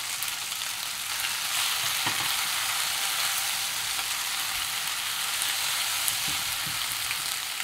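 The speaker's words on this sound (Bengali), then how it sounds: "আমি চিকেনের সাথে পাস্তাটাকে সুন্দর করে একটু কষে নেব।" Chicken and pasta sizzle steadily in a hot pan as they are stir-fried Bengali style, a continuous close crackle with a few soft stirring knocks and no talking.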